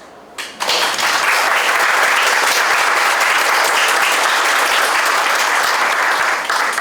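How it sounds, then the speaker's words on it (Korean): Loud, dense applause from an audience at an orthopedic clinic's fifth-anniversary ceremony, starting abruptly after a brief quiet moment and continuing steadily and strongly. "그에게 박수 쳤어요"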